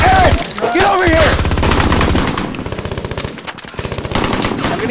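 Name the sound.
machine gun fire in a war film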